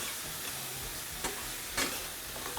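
Beef searing in a hot pan as it is flipped over, a steady low frying hiss with a couple of brief louder sizzle bursts as the meat hits the surface, no voices.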